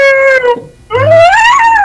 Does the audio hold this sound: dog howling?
yes